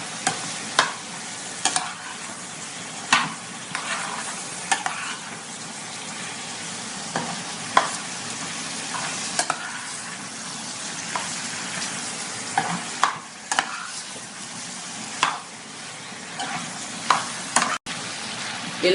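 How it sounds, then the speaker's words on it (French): Beans and pork chops fry in a pot while being stirred, a steady bright sizzle running throughout with frequent scraping clicks of the spoon against the pot, close and without talk. "Et je vais remuer encore pour que ça ne bouge pas. Comme ça, là, les épices vont bien entrer dans le côté."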